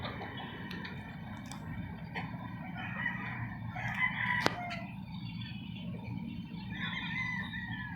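Chickens and roosters kept on a rooftop cluck and crow in a steady, fairly distant din, with a sharp sound at about four and a half seconds and no talk.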